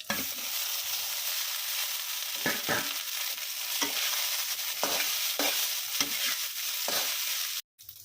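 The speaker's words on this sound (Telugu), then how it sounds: "పచ్చిమిర్చి అన్నీ బాగా వేగిన తర్వాత ఇందులో రైస్ వేసి కలుపుకుందాం." Rice fried in a pan with cumin, green chilies and dried red chilies, sizzling steadily while a spoon scrapes and stirs in regular strokes, followed by a brief silence near the end.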